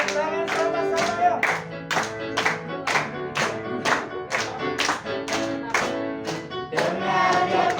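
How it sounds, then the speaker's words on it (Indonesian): Children at a GPdI church Sunday school service clap their hands in a steady, even beat of about fourteen claps, with voices singing a song alongside. "Tepuk tangan sama-sama ya."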